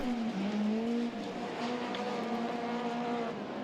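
Rallycross race cars battle in the Super Nationals under 2 litre final at a Belgian RX round, their engines a loud, sustained, wavering whine with shifting pitch and no talk over it.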